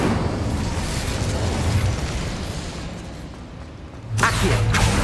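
Incendio fire spell cast in Hogwarts Legacy, a sustained roaring burst of flame that swells and fades, then a sharp second blast erupting near the end.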